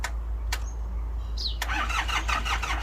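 A car engine that has sat parked for three months cranks after a lone click, then catches and runs, settling into a rough, pulsing churn close to the listener with no one talking.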